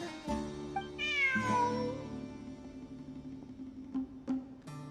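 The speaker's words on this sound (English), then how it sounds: "Look! A cat!" A cat meows in the video game Genshin Impact, a clear, close, drawn-out mew followed by softer purring tones and a couple of short chirps, with no talking.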